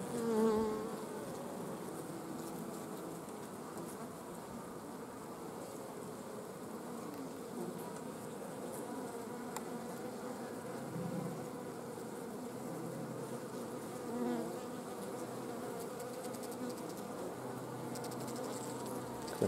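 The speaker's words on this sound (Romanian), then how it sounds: "mai vin și câte o albine din exterior, mai planează" Honey bees buzz steadily around a hive, a dense continuous hum of many wings with occasional individual bees drifting closer and away, no voices present.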